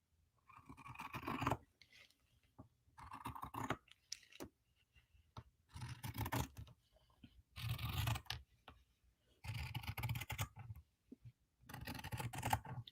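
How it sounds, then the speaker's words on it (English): Fabric scissors snip through fabric in a series of crisp, scratchy cuts close by, coming in short bursts separated by brief pauses, quiet overall with no talking. "I love the sound of my fabric scissors when they cut fabric."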